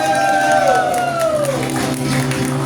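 A loud crowd at a praise and worship gathering cheers and claps, with a gliding tone sweeping downward over the noisy mix of applause and raised voices.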